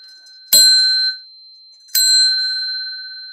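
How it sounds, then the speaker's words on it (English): Two bright rings of a small bicycle-style bell, each a sharp strike with a sustained metallic tone that fades slowly, close and clear with no talk. "That's the little bell."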